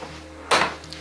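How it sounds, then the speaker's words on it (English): A door in an abandoned 12th-century castle in France shuts with a single sharp wooden knock and a brief rattle, loud and close against a quiet room. "Yeah, close the door, please."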